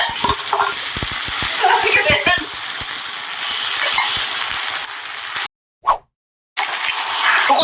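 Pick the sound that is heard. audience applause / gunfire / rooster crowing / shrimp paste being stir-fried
shrimp paste being stir-fried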